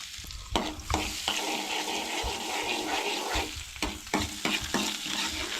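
Butter melting into hot oil in a pan for pav bhaji, giving a low, steady frying hiss punctuated by several sharp spoon taps and scrapes, quiet and close with no talking.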